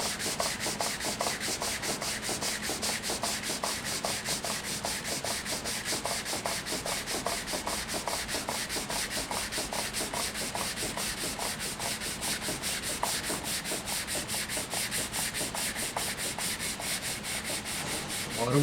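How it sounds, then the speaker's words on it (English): A wooden stave drum shell is wet-sanded by hand with 320 grit paper on a jig, giving a steady run of quick, evenly rhythmic rubbing strokes that continue alone without any talk. "A lot of work involved in wet sanding,"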